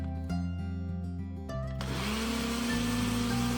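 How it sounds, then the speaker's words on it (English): A kitchen blender whips cream sweetened with powdered sugar for a strawberry topping, starting with a stuttering whir and then rising into a loud, steady motor roar at close range. "One more blast of the blender and it's completely ready"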